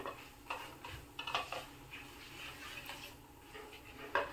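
Garam masala and dry spices stirred in a pan for paneer bhurji: soft scraping and light metallic taps of a spoon against the pan in an irregular rhythm, close but quiet, with a faint sizzle underneath and no talking.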